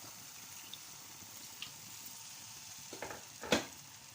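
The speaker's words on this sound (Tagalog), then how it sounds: "Lagyan ko siya ng kunting tubig hanggang maluto ang manok." Chicken simmering in a little water for a stew gives a faint, steady sizzle and bubbling, broken by a few soft clicks and a sharper splash or stir near the end.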